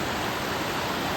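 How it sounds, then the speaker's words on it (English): A mountain creek on the Mount Hood hike to Heather Canyon gives a steady, dense rush of flowing water, continuous and fairly loud, with no voices. "it's a nice creek, a good amount of water flow"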